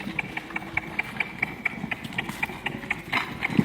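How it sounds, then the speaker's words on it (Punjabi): A horse's hooves clip-clop in a steady, even rhythm on a horse-racing ground, close and clear over a low background rumble. "ਇਹ ਘੋੜਾ ਤੇ ਇਹ ਘੋੜੇ ਦਾ ਮੈਦਾਨ ਹੈ"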